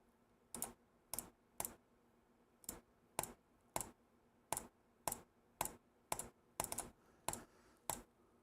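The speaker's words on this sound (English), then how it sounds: "That was an intentional double click. That was an unintentional double click." Sharp, isolated clicks from a faulty computer mouse that double-clicks, arriving roughly one to two per second in a quiet room. Several land as quick paired clicks, and no one speaks.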